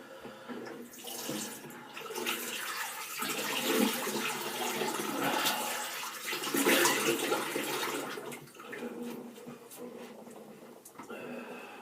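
Running water splashes near at hand as a face is rinsed after a straight razor shave, with uneven surges and trickles over several seconds, broken by brief pauses.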